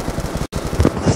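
Rapid gunfire from the BO2 Zombies video game, a dense run of close, loud shots filling the clip with a brief gap near the middle, with game noise mixed in.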